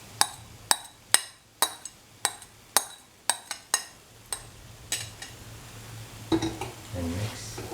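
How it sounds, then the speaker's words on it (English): Paneer pieces dropped into a cooking pot for a cottage cheese cashew stew, giving a string of about a dozen distinct, fairly close clinks and taps at an even pace, with a low steady hum underneath and some soft stirring toward the end. "Now put in the paneer pieces that we sorted earlier."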